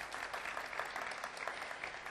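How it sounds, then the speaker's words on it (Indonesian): Audience applause at an MPR RI quiz competition event, a steady wash of clapping filling the hall for about two seconds at moderate level, with no talk over it. "Iya, tepuk tangan."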